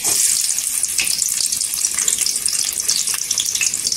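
Onions frying in a spoonful of oil for a quick peanut chutney, a steady close hiss and crackle of sizzling that runs the whole time with no talk.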